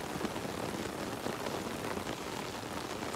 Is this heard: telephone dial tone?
no